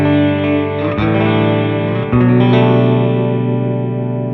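An electric guitar played through a Black Bobbin boost pedal, pushed close to breaking up, sounds sustained chords that are thick, slightly gritty and loud, with a fresh strum partway through, and no voices.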